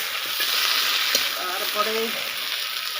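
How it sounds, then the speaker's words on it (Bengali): Potatoes sizzle in hot oil with cumin paste in a village kitchen in West Bengal, a steady close crackling fry with occasional pops, while someone speaks briefly. "তেলটা দিয়ে এখন আলুটা ভেজে নেব।"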